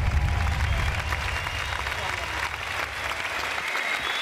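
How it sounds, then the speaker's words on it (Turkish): Crowd applause fills an awards ceremony hall, loud and continuous with cheering mixed in, over a low rumbling background and faint talk. "O güzel alkışlarınız için sizleri alkışlamak istiyorum"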